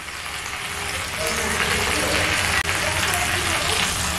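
Fried eggplant pieces tipped into sizzling spices in a pan give a dense, hissing fry that swells louder partway through, close up, with a brief clatter near the end.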